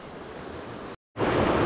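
Green Cove Creek, a mountain stream, rushes steadily with a broad hissing flow, cut by a brief silent gap before returning louder and nearer.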